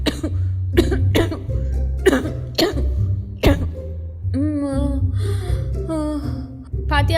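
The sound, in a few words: coughing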